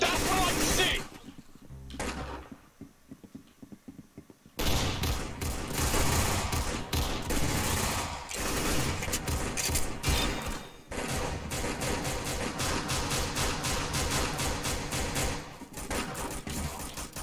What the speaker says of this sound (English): You can literally barely even hear the gunfire.